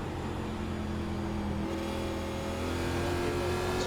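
A NASCAR race car engine drones and revs steadily at New Hampshire in the racing game iRacing, a loud continuous close hum whose pitch rises slightly partway through.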